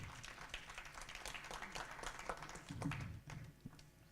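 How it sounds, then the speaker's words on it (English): Scattered applause from a small conference audience at an African fixed income investment event, claps dense and uneven, with a brief louder swell near the end before tapering off. "Mr. Kone, a round of applause, please."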